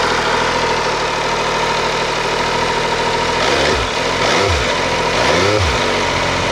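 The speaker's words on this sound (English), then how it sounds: "I won't rev it too much because I haven't warmed it up" An MV Agusta F3 800 motorcycle engine idles loud and close with a busy mechanical chatter, then gets several short, cold blips of the throttle that rise and fall in quick succession.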